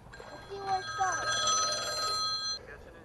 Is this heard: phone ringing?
yes